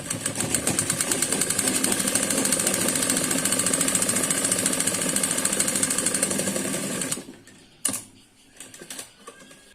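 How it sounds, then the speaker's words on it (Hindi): A sewing machine runs steadily for about seven seconds, stitching the side seams of a Punjabi suit, then stops, followed by a few faint handling clicks and rustles. "यहाँ पे हम साइड से सिलाई लगाएंगे फिटिंग के अनुसार।"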